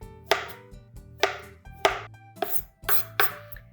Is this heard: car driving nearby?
no